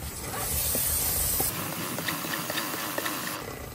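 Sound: spraying chain cleaner aerosol

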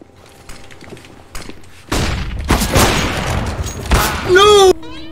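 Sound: gunfire in a video game

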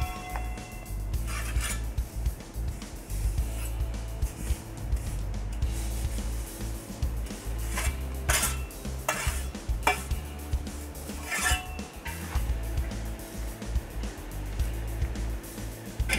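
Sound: pointing trowel smoothing mortar between bricks

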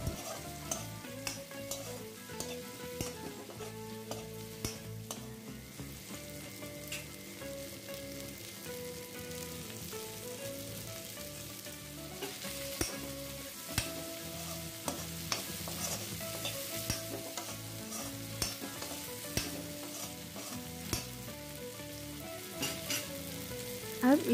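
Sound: stirring chopped okra frying in a pan

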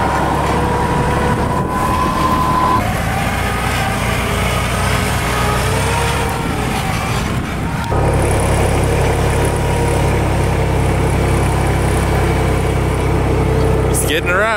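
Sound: tractor engine while riding on it

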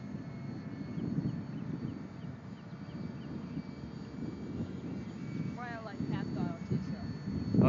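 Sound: AMX electric ducted fan model jet flying

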